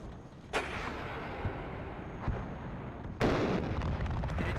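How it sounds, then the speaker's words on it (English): Rocket artillery fire from a 240mm cluster launcher in the WARNO strategy game: a continuous loud roar of launches, broken by sharp booming bursts near the start, midway and in a heavier salvo toward the end. "we can see that the 240mm cluster is firing away again"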